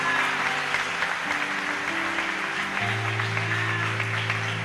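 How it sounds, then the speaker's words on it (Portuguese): A church congregation applauds during a Sunday morning service, steady mid-level clapping from many people layered over sustained organ or keyboard chords. "Aplauda ao Senhor nessa manhã."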